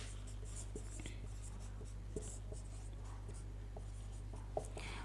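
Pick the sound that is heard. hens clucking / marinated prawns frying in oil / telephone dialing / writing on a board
writing on a board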